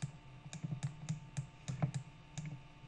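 Someone types on a computer keyboard: a quick, uneven run of close, light key clicks, alone with no talking.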